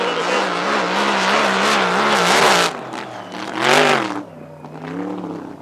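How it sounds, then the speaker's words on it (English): A GP1 drag boat's supercharged alcohol Chevy engine revs at a warm-up, the throttle held with a wavering roar, then blipped in short surging bursts that rise and fall as it eases off, under faint commentary. "Stands on the throttle, gives it a little"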